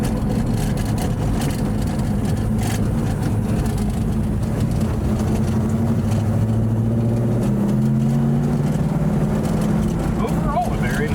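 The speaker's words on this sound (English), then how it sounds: "And while not being driven like it was meant to be driven, just cruising, the car drives really well." A 1970 Pontiac GTO Judge with a 400 cubic inch V8 cruising gently, its steady low engine drone and road rumble continuous throughout, with a voice talking over it.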